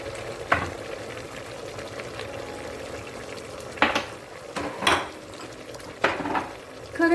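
Meat kavurma with butter and peppers frying in a pan, a steady soft sizzle broken by several clanks and scrapes of a utensil stirring against the pan, close by.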